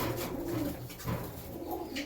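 Male pigeons coo in low, rolling repeated calls, close up and moderately loud, with no one speaking.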